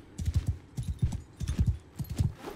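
Horse hooves galloping in the video game Bannerlord, rapid clustered thuds in repeated bursts, close and fairly soft, with no voices.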